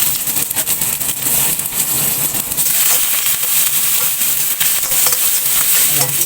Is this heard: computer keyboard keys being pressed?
no